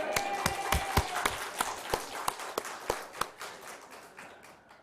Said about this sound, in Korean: 알아서 박수 잘 치시네요.